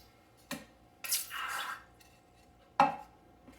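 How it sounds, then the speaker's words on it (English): A hot fine silver coin ring is dunked into cool water with a brief plunk and a short sizzling hiss, followed by another splashy clink, close and fairly quiet. "Dunk it in some cool water."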